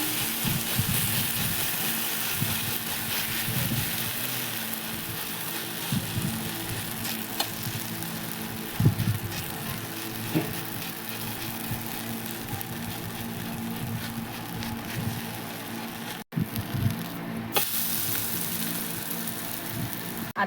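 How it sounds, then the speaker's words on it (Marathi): Potato upvas thalipeeth sizzles steadily as it pan-roasts, a constant crackling fry with occasional scrapes and a brief pause near the end, with no one speaking. "ह्याला आता 1-2 वेळा असंच लाल खालीवरी करून भाजून घेऊया"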